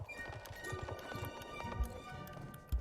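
Pony hooves trot in the online horse-riding game Star Stable Online, a quick rhythmic clip-clop of game hoofbeats over a bed of background music, with a couple of heavier thuds.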